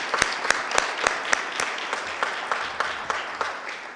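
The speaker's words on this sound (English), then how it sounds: "Let's give her one more round of applause." Scattered applause at a Board of Aldermen meeting, a modest group clapping with distinct, slightly uneven claps standing out over a light wash, fairly soft and gradually tapering.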